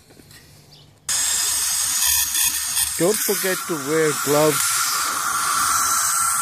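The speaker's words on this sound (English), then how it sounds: "you shake it and then you spray it" Steady hissing spray from a garden sprayer treating Asian pear, cherry and peach trees starts abruptly after a second of quiet and continues throughout, with a person talking briefly over it partway through.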